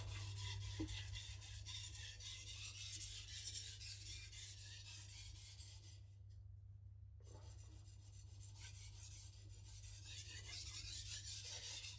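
A knife edge drawn back and forth over sharpening stones and deburred with a steady, continuous rasping scrape that briefly stops partway through, quiet and close over a low constant hum, with no speech.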